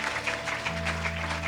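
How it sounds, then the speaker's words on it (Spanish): A church congregation at a spiritual seminar gives a steady round of applause, with sustained music or an organ tone underneath. "Dale un aplauso de alabanza al Rey"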